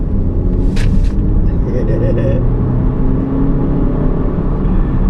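A 2019 Alfa Romeo Stelvio SUV accelerates in normal mode, its engine producing a loud, sustained low rumble and road roar from inside the cabin while a person talks over it.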